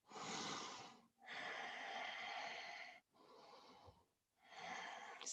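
Slow, deep yoga breaths during a morning flow, three long airy inhale and exhale cycles heard up close, steady and even, with brief pauses between them.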